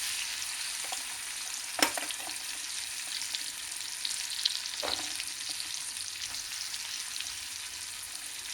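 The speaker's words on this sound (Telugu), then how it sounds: "ముందు కొంచెం ఎర్రగా ఫ్రై చేసుకోవాలన్నమాట." Oil fries green chillies for palak paneer in a pan, a constant close crackling sizzle broken by a couple of sharp knocks of a spoon against the pan.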